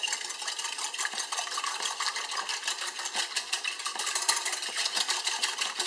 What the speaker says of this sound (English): So we have to whisk the eggs.